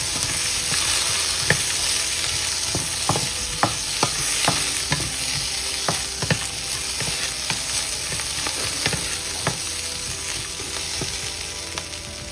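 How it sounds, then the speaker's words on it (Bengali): Peanuts fry in a pan with a continuous sizzle, and sharp clacks and scrapes from stirring come irregularly throughout. The sound is close and no one speaks. "বাদামটা দিয়ে আমি একটু অল্প এটাকে ফ্রাই করে নিচ্ছি"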